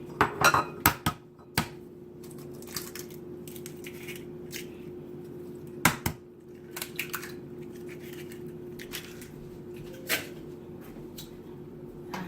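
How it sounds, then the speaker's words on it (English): Eggs being mixed in a bowl, with scattered clinks and taps of a utensil against the bowl and a soft, faint whisking scrape between them, heard alone in a quiet kitchen. "Next, I'm going to add my eggs. Let me go ahead and mix those up."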